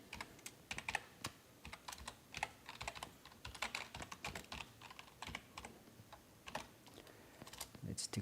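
Typing on a computer keyboard while writing JavaScript code: quick irregular bursts of fairly quiet key clicks with short pauses, close up, continuing throughout.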